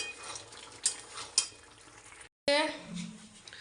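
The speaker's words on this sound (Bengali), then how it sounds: "কড়াইয়ে তেল চাপিয়েছি মাছ ভাজবো" Fish frying in hot oil in a wok in a home kitchen, a steady close sizzle with a few sharp clatters of utensil against the pan and a brief cut, then a louder burst of spattering.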